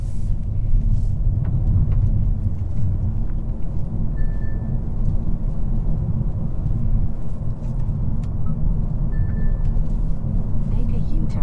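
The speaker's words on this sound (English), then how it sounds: "setting off in the Kia K5 GT line" A 2023 Kia K5 GT Line pulling away in smart drive mode, a steady low engine and road rumble heard from inside the cabin, continuous and fairly loud, with a faint chime.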